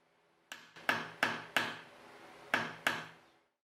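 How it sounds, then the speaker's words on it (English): Sharp hammer blows strike metal, shaping a small point on a workpiece in a gold-working setting: six loud, close knocks in an uneven rhythm, each ringing briefly before fading, with no talking. "I just have to hammer a little point so I can insert it into the hole."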